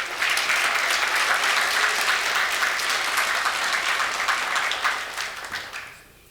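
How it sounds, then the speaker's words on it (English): Audience applause at a Japanese New Year's celebration with kabuki-style dance performers, loud and dense clapping that holds steady for several seconds, then tapers off into a few scattered claps and fades. "please give them another big round of applause."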